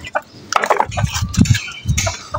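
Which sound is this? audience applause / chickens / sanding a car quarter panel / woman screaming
chickens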